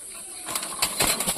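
A breeder pigeon held in the hand beats its wings in a few quick, close flapping bursts against a steady background hiss.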